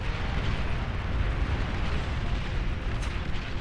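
Bombing explosions in a team-battle video game, a dense continuous rumbling roar of blasts, loud and steady throughout with no distinct pauses.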